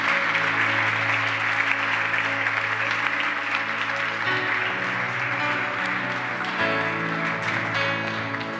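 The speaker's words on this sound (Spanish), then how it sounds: "Damos un aplauso al Señor, por favor" A church congregation claps together during a worship service, sustained, fairly loud applause under sustained organ or keyboard chords that shift partway through, continuing steadily throughout.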